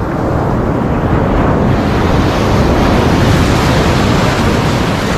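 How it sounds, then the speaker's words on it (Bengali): Sea waves rolling onto a secluded, untouched beach at Dublagadi on a cloudy day, a steady loud wash of surf with wind buffeting the microphone throughout. "প্রকৃতির বুকে লুকিয়ে রয়েছে এরকম এক নির্জন ভার্জিন"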